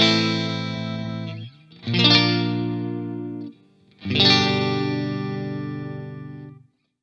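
Scratch-track playback of chorus chords on a distorted, effects-laden guitar: three sustained strummed chords, loud and close, with brief gaps between them and no talking.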